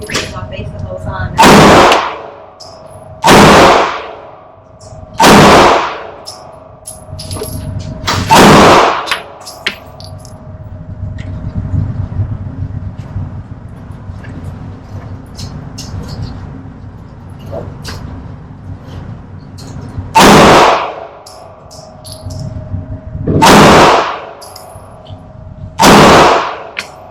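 Handgun fired at a range with a Holosun SCS sight: seven sharp, loud shots, four in quick succession, then a long pause, then three more, over a low background rumble.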